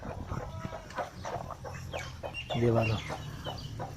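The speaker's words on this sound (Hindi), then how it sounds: "ये डॉक्टर साहब मुर्गा है" A rooster with a leg infection clucks and calls close by, with a louder burst near the end, while someone talks over it.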